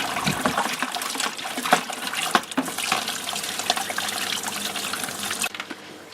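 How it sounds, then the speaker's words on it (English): Tap water running steadily into a bucket, about five litres, while being stirred, for a Dutch bucket tomato nutrient mix; a continuous close splashing rush that drops off sharply near the end. "put a few litres in the bucket, 5 litres or so, give that a wash out, give this a stir as it's filling up"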